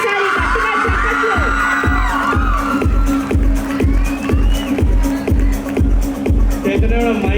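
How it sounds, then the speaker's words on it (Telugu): At a college stage event, a crowd claps in a fast steady rhythm, about two beats a second, mixed with loud cheering, whoops and shouting voices up close. "అందరూ ఒకసారి గట్టిగా చప్పట్లు."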